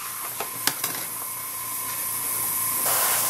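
Steady airbrush hiss from a Badger Patriot 105 with a 0.75 nozzle spraying at about 12 PSI, a continuous close airflow that starts after a few short clicks.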